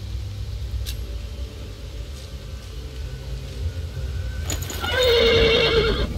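In the video game Ken Follett's The Pillars of the Earth, a horse whinnies loudly near the end, after a stretch of low rumbling and faint clicks, with a brief snort or thud just before.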